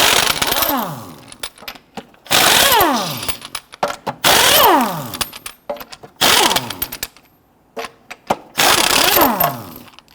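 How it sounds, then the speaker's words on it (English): A power impact tool spins lug nuts off a Honda Ridgeline wheel with a 22mm socket. It comes in four loud, close bursts of rattling whir, and each burst winds down with a falling pitch, separated by brief pauses. "you got to loosen and remove your lug nuts"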